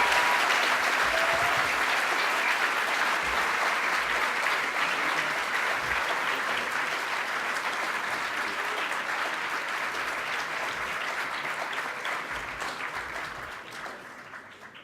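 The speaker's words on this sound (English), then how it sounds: "Big round of applause for Peter Lord." A large audience at the Animation Dingle 2018 keynote applauds steadily and loudly for about fifteen seconds, the clapping thinning slightly toward the end.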